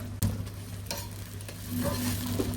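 Sliced onions sizzle in oil with cardamom, cinnamon pieces and bay leaves, making a continuous close, bright frying hiss with a few spatula scrapes and a steady hum in the background.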